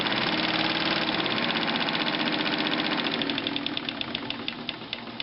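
Morse DeLuxe zigzag sewing machine running at full speed: a loud, fast, steady mechanical rattle with rapid needle knocking, close up, slowing slightly toward the end with no talking.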